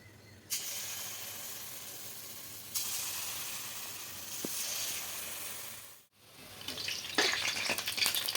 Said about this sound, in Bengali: তেলটা গরম হয়ে গেছে এবার একে একে বড়াগুলো দিয়ে দেবো